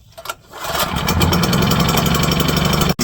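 A portable home-backup generator engine catches after a short pull-start rattle, then settles into a loud, steady running drone close by, briefly cutting out near the end before picking back up.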